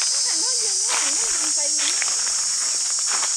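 Cicadas calling in a forest during a cicada hunt: a loud, steady high-pitched drone runs through the whole stretch, with a voice briefly audible over it.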